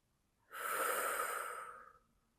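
A single long exhale through the nose during a hatha yoga flow, a soft airy rush that swells, holds for about a second and a half, then fades, close and fairly quiet.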